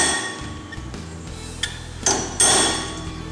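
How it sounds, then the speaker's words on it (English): Hammer blows on a punch staking an ATV axle nut into its groove during a CV boot replacement, a few sharp metallic strikes in quick succession, the last ones loudest and closest, with no talk. "So what you do is you just take your punch and you put it right there on that groove."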